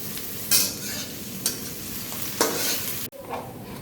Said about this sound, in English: Now I'm adding tomatoes.